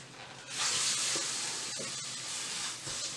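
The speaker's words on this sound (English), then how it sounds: "I hear a little sizzle coming on, which is really good." Vegetable lumpia fry in hot oil with a steady, fairly loud sizzling hiss that swells after a quiet start and holds throughout, with no talking.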